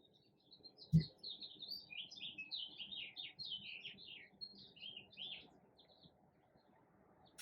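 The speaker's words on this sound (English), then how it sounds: "we can hear the birds chirping in the background." Small birds chirp and twitter continuously in quick high trills, faint and distant outdoors, with a single soft thump early on.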